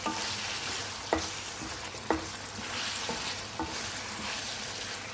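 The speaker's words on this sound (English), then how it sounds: "Continue frying the chicken" Chicken fries in a karahi with a continuous loud sizzle, while a spoon scrapes and clinks against the pan every second or so.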